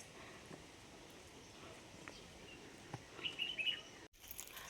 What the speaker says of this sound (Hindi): और मेरे पक्षी सुबह सुबह आ गए,